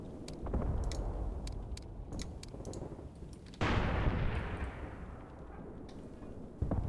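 Artillery fire falls during a World War II tactical battle in Graviteam Tactics on the Luga Line. Distant booming impacts roll beneath a steady rumble. A heavy blast hits midway and another comes near the end, with scattered small-arms clicks between them.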